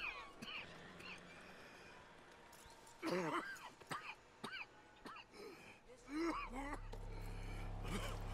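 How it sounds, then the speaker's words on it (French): A character coughing and clearing his throat in the western video game Red Dead Redemption 2, several rough bursts scattered across the clip, with a horse snorting and faint ambient sound around. "Il tousse beaucoup, Arthur, là, je trouve."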